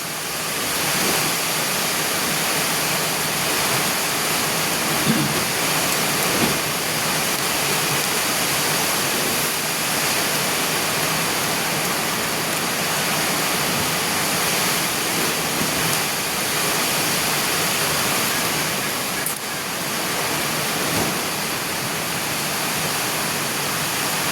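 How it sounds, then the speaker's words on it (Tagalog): Steady, dense hiss of rain pouring down continuously, broadband and unbroken, with no voices. "Tumila ka naman ng ulan"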